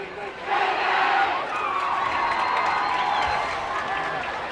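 A large crowd cheers and shouts steadily at a high school football game between Rigby and American Fork, a broad roar that surges early and then holds as a sustained din of voices.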